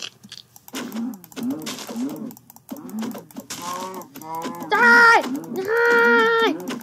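A cow being attacked in a sky challenge video game gives short lowing moos that rise toward the end, mixed with clicky keyboard-like tapping and brief bits of talk.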